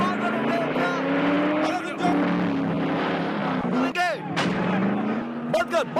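Officers fire guns at a Mustang car as it tears around a prison yard, with loud sharp shots and sirens over a revving engine and tire noise, with voices mixed in.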